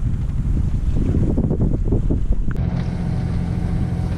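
A sailboat motors into the Bay of Roses after the wind has dropped, with steady engine rumble under gusty wind buffeting the microphone and water washing past the hull.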